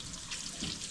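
Tap water runs steadily into a sink as hands are washed in a home kitchen during cooking, a continuous close splashing hiss lasting about a second with no talk over it.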